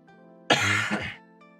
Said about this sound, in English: I'm sorry for coughing, you guys